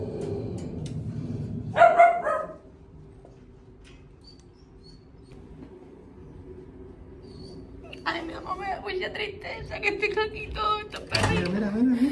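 Dogs at an adoption center bark and yip in short bursts, some close and some farther off, amid a steady background hum while someone talks.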